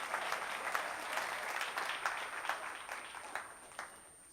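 Audience applause at a campaign dinner, a steady wash of many hands clapping at moderate distance, with scattered louder claps standing out and no talking over it.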